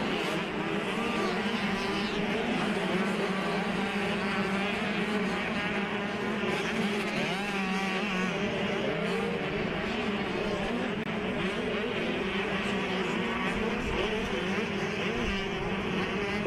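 A pack of schoolboy motocross bikes races an AZ Open track, a dense, continuous high-revving engine roar with shifting pitch throughout, loud and unbroken, without talk.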